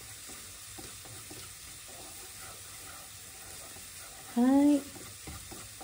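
Onions stir-fry softly in a pan for a tomato, onion and egg soup, giving a low, steady sizzling hiss. A voice briefly speaks near the end.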